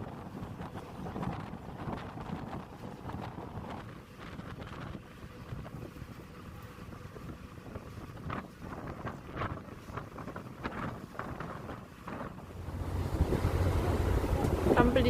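Boat sailing on Lake Como, with low rumbling water and wind noise throughout and a swell of engine or wash rumble toward the end.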